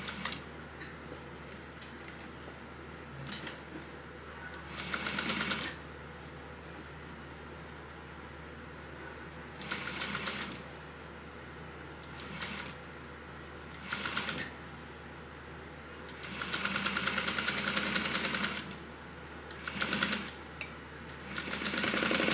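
A sewing machine stitches a crossbody bag at a 3/8-inch seam in several short bursts of rapid mechanical whirring and ticking, separated by quiet pauses, close and fairly loud against a low steady hum.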